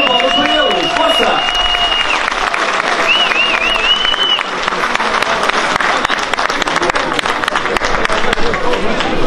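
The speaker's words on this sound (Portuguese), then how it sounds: "Uma grande salva de palmas para eles." An audience gives loud, continuous applause for a young concertina trio at a show, with whistles near the start and crowd chatter mixed into the clapping.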